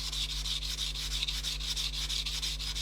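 A knife blade grinds on a coarse sharpening stone, working toward the heel, in a steady rhythm of close, rasping back-and-forth strokes with no talking.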